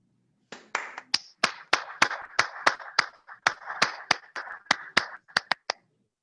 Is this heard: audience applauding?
yes